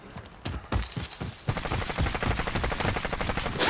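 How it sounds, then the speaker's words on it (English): Gunfire in a video game, close and loud: a few separate shots at first, then a dense, rapid string of automatic fire that keeps going, with no talking. "I hear shots"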